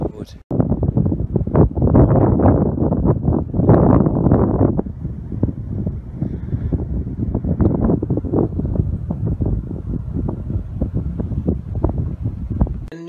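Strong gusting wind buffets the microphone outdoors while cycling in cold weather, roaring loudly and continuously with uneven surges throughout.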